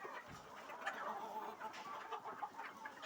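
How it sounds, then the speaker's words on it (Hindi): Desi chickens on a rural farm cluck in a soft, faint chorus of short overlapping calls, heard from some distance amid low background noise. "नीचे मुर्गे मुर्गे रखे हुए हैं, सारे देसी मुर्गे हैं"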